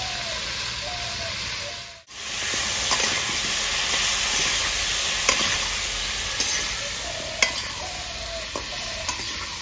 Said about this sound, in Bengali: ফুলকপি হালকা করে ভেজে নেবো